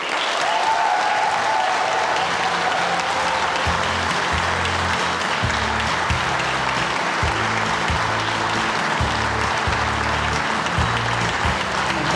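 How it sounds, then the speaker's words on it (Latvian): Loud, sustained applause from an audience at a dance concert, the jubilee show of a middle-generation folk dance ensemble, dense clapping filling the room steadily for the whole stretch, with a low rhythmic music bed thumping underneath. "Skaļi aplausi!"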